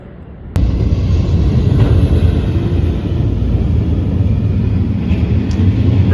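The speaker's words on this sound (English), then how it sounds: "Some sort of military plane." A military plane passes overhead above a farmyard, its low steady rumble swelling in after a sharp click and droning loud and continuous for several seconds.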